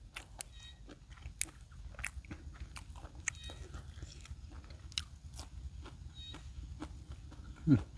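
Crispy squid crunches between the teeth in sharp, scattered bites and chewing, eaten outdoors at a reservoir. The bites are close and faint over a low background rumble, with occasional voices.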